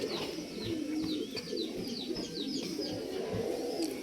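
Pigeons coo repeatedly in a loft, with soft rolling calls overlapping one another, plus occasional wing flutters and light scuffling nearby. No one speaks.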